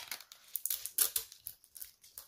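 Adhesive tape being pulled off a roll: quick crackling, ripping sounds in short uneven bursts, close and fairly quiet, peeling and crinkling, with no voices.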